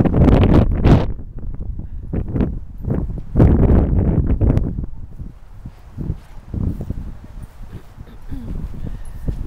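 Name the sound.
strong wind blowing outdoors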